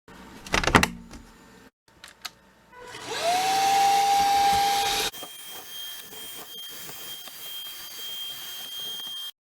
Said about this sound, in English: I need to vacuum that off.